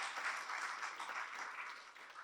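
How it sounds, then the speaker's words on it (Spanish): A church congregation applauds during a sermon, a soft, steady wash of many hands clapping, heard faintly and at a distance. "Démosle un aplauso a Jesús cuando conocemos cuál es la voluntad"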